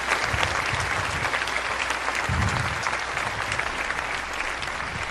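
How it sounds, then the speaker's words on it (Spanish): Loud, sustained applause from a crowd, continuous clapping filling the whole stretch without pause. "Un aplauso fuerte a la Virgen María."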